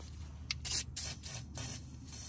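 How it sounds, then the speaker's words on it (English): Short hissing bursts of PB Blaster penetrating oil sprayed onto warm, rusted parts of a 1935 International C-30 truck after heating, several quick spurts at close range with a steady low hum underneath. "we're gonna go ahead and spray her with some PB Blaster"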